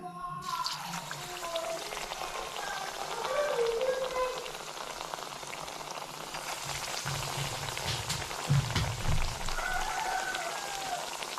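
Coconut cookies drop one at a time into hot oil in a home kitchen, setting off a steady, close crackling sizzle that swells and fades over the whole stretch, with faint talk in the background.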